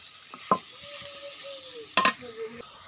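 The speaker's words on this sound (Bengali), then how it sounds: "এই যে হলো আমি মশলা কষাইতেছি" Spices being stir-fried in a home kitchen pan, with a soft continuous sizzle broken by a few sharp scraping clacks of the spatula against the pan, heard close with no talking.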